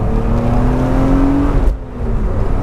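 A BMW M Roadster accelerating on the road, its engine note rising steadily with a whirring drone before a gear change drops the pitch, loud and close from inside the car, with no talking.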